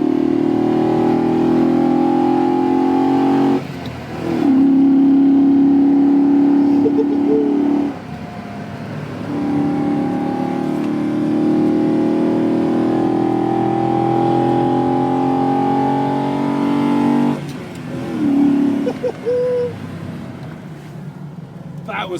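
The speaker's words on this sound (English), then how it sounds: "That flat plain V8 sounds so good" A flat-plane V8 engine revs hard through rising and falling pitch on a drive in the Dolomites, loud and close, with a couple of brief breaks between pulls.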